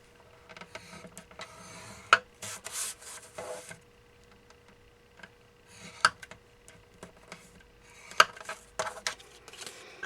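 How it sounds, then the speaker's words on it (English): Cardstock is scored at half-inch lines for a birthday card with soft, close, intermittent scraping and rubbing strokes, punctuated by a few sharp clicks and ticks. "we're going to score that at 1/2 inch on 3 sides"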